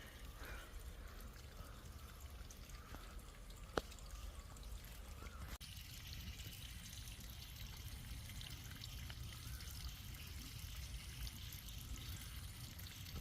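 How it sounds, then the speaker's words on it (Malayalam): Water is poured steadily onto a plant, giving a soft, continuous trickle and splash that stays faint and even throughout, with no talking. "അതിന് തകൃതിയായിട്ട് ഇങ്ങനെ വെള്ളം കൊടുത്തുകൊണ്ടിരിക്കുകയാണ്"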